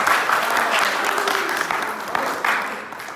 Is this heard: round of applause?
yes